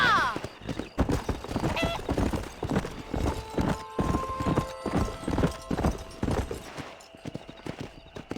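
Horse riding in the video game Red Dead Redemption: steady clip-clop of hooves with a whinny, brief shouts and some speech over a busy game soundscape.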